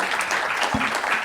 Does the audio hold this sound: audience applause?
yes